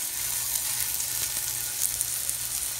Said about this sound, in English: Take one of our patties, put it right in the middle, and we're gonna let this cook off